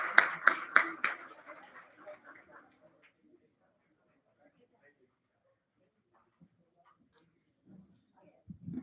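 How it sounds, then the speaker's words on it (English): Applause for two esports teams at a school board of education meeting: a short burst of clapping and cheering at the start that quickly thins out and fades, leaving near silence with faint room noises. "let's give a round of applause for, again, both of the esports teams and their amazing seasons this year"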